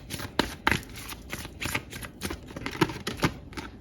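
Tarot cards from a second deck being shuffled close up, in a run of crisp riffling bursts and soft slaps at an uneven rhythm, with no talk.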